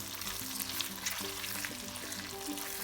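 Onion and garlic frying in a pan for lasagna, a steady close hiss and sizzle holding throughout over faint background music.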